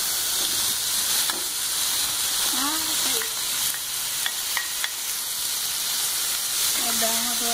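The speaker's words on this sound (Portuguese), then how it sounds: "Vou dar uma douradinha nele aqui agora." Chicken pieces browning in a hot pan for strogonoff sizzle and crackle steadily up close, with stirring scrapes and a few brief voice sounds in the background.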